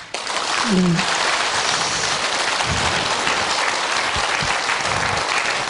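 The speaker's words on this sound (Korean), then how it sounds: "다시 한번 큰 박수 부탁드리고요" A gathering of Won Buddhist volunteer leaders at a training session gives loud, steady applause, a dense wash of clapping lasting several seconds with brief murmurs of voices underneath.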